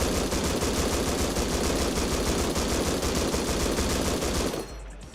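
A long, continuous burst from an M249 machine gun with a laser sight in the game Rust, loud and close with rapid evenly spaced shots, cutting off abruptly near the end into quiet, with no one speaking.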